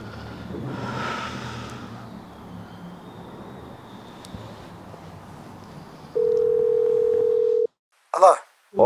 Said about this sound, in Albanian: Enis, prit be që aboj një telefonon e njerit, be.